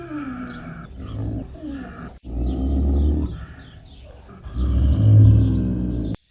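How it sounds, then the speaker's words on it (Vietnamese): Leopard giving a series of low, rasping roars, with two or three rough bursts separated by short pauses and birds chirping faintly in the background. "Leopard."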